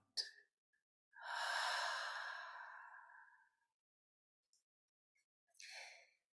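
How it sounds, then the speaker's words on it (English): Deep breathing in through the nose and out during a calming exercise: a short sniff, then one long, soft exhale lasting a few seconds, followed by quiet and another breath, close to the microphone with no speech. "take a deep breath in through your nose and out"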